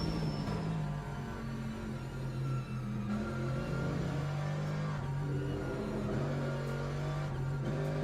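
A GT3 race car engine at Spa-Francorchamps in the Le Mans Ultimate sim, a continuous droning rumble with the revs shifting gradually, steady and fairly close throughout.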